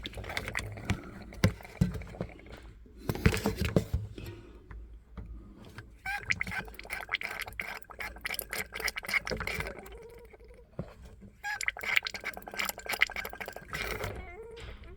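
Water gurgles and trickles through the clogged drain hole of a Kitchenaid KBFN502ESS02 built-in refrigerator, with irregular bubbling and sputtering bursts up close and faint knocks in between.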